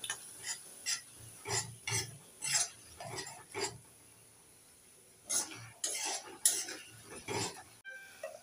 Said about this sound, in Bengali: এবার নেড়ে চেড়ে মশলাগুলোকে 2 মিনিট কষে নেব।